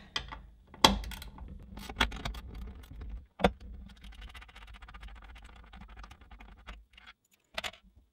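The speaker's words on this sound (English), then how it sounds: "I'm just going to grab my ratchet and I'm going to loosen both of these up." Hand ratchet loosening bolts on a Dillon RL550C reloading press mount, heard close as a series of scattered clicks and metallic clinks with brief pauses between turns.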